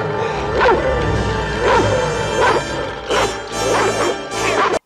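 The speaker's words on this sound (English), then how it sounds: "The dog attack scenes get very intense. Breaking glass, growling, teeth, it's good stuff." Dogs bark and yelp in repeated bursts with crashing and smashing glass during a violent animal attack scene in a 1977 horror film, loud and close with no voices over it.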